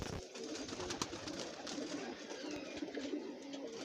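Pet pigeons, including black and white Shirazi breeds, coo softly and steadily nearby, low throaty calls repeating over faint background noise.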